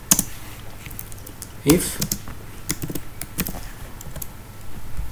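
Typing Python code on a computer keyboard, scattered key clicks and taps at an uneven pace, heard faintly under a voice talking.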